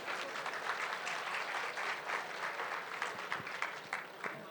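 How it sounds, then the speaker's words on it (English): Audience applause welcomes a speaker on stage at a book session, a dense steady clapping from a moderately distant crowd lasting several seconds with slight swells and no talk over it. "please do give him a round of applause"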